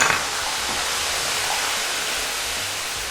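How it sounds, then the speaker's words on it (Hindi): Okra sautés in hot oil in a kadhai for dhaba-style bhindi masala, giving a loud, steady, close hiss with a brief sharper burst at the start. "थोड़ा सा तेल कढ़ाई में डालें और भिंडी को सौते कर लें"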